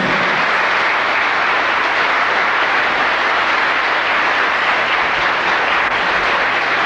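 A church congregation applauds loudly and without a break, a dense, continuous roar of clapping that holds steady throughout.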